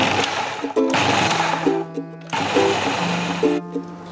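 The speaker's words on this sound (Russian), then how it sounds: "Добавим 2 столовые ложки зерен горчицы и измельчим в режиме пульсации" A food processor motor whirs in short pulsed bursts, starting and stopping about twice, with a grinding rattle under each burst as it grinds mustard seeds.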